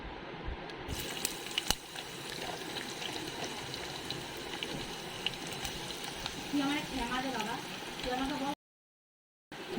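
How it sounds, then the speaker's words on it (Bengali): Chopped onions with broken cloves hitting hot oil for chicken curry, a continuous close sizzle and bubbling crackle with some clatter, before a brief silent gap near the end. "আর কিছু পেঁয়াজ আমি কুচি করে রেখেছিলাম, সেগুলোকে এখন গরম তেলে দিয়ে দেবো।"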